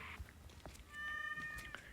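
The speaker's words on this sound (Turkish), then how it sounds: "Bak kedi. Gördün. Meyavlıyor böyle gidiyor." A cat meows once in the video game Goat Simulator: a short, faint, tonal call in the middle, with a few soft clicks and taps around it.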